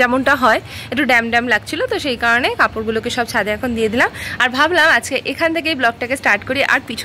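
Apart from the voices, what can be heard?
No everyday noises stand out.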